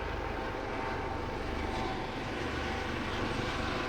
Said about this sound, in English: Let this Coast Guard chopper fly by real quick.